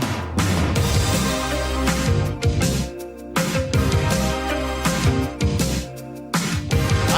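Electronic drums punch through an 80s pop song, with heavy rhythmic hits and full backing music playing loud and continuous.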